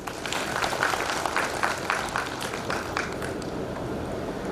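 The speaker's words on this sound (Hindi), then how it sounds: "चार ताली बजा दें फिर।" Crowd clapping in unison at a spiritual stress-relief program in Srinagar, Garhwal, a short burst of steady, dense applause with a few sharper claps standing out throughout.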